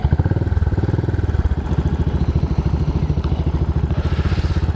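Many motorcycles gathered at Clacket Lane services on the M25 for the Ring of Red ride, engines running in a steady close rumble with pulsing idle throbs and clatter, no talk.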